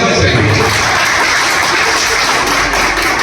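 Audience applause at a Rao community Diwali gathering in Karnataka, a loud, dense wash of many hands clapping that carries on steadily from start to finish.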